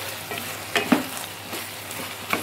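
Potato curry frying and sizzling in a pan, a steady hiss with a few louder stirring scrapes and pops, close and alone.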